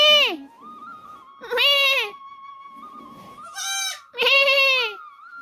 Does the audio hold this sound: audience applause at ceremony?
no